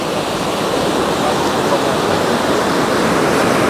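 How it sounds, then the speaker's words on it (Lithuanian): Ocean waves crash far below the cliffs at Nusa Penida, heard as a continuous loud, broad roar of surf with no distinct breaks. "Pažiūrėkit, kokios bangos apačioje."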